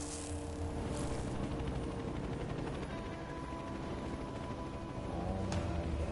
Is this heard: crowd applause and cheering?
no